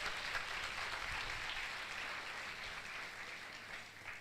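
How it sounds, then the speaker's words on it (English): An audience at a medical MBBS induction ceremony applauds the registrar with a steady, sustained wash of clapping from many hands, even and fairly distant, fading slightly toward the end. "Please clap for our registrar."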